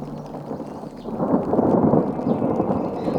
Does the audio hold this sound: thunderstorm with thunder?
yes